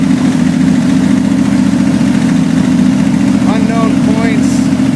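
The 95HP engine of a 1965 Chevrolet Corvair Monza parts car runs loud and close with a steady droning idle. It has old spark plugs, unrebuilt carburetors and a slightly burned distributor cap, and a brief voice-like sound rises near the end.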